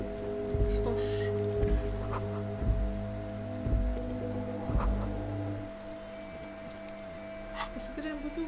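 Rain falls steadily in the Disco Elysium video game, a soft hiss laid over looping game music with repeated low thuds.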